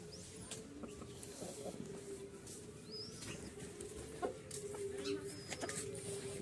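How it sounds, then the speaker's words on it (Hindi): An Aseel breed rooster, a young bird about six to seven months old, gives scattered short clucks with some wing-flapping over steady outdoor background noise, with no talking. "ये देख सकते हैं ये मुर्गा"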